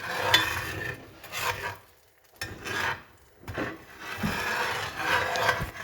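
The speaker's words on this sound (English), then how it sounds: "going to stir that up so it doesn't burn" Sugar and oil are stirred in a pan for bananas foster, giving soft scraping and rubbing strokes that come in bursts with brief pauses between, close and moderately quiet.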